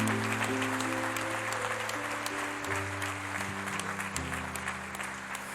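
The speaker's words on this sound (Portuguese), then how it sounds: "Aplauda o nome do Senhor Jesus." A church congregation applauds during a sermon, producing a thick, even stream of clapping throughout while sustained keyboard chords shift underneath.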